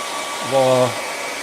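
A hair dryer blows steadily over wet paint on a sunset path painting, a constant close airy rush with a brief humming rise in pitch partway through.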